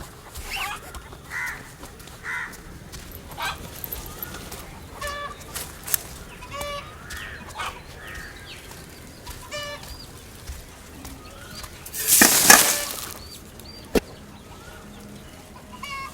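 Chickens cluck in scattered bursts around a household yard at feeding time, soft and somewhat distant, with a louder flurry of clucking near the end over quiet background ambience.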